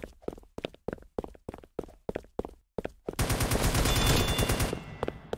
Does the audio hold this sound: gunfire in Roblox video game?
yes